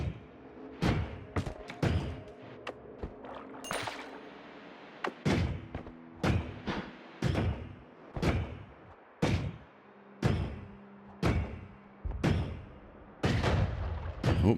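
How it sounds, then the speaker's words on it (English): Explosions in the co-op game Noita, a dense series of sharp, booming blasts and thuds, some in quick clusters and others spaced a second or so apart, loud and close with no talk. "Oh, big explosion on that side."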